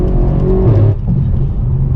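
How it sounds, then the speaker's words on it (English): A BMW M4 and a 1000 hp BMW M8 Competition run together on a highway, their engines droning steadily with a tonal shift near the middle and faint crackle underneath, loud and continuous without speech. "M4 and M8, both crackling,"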